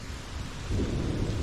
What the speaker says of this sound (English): we're hearing a thunder off in the distance, just like that.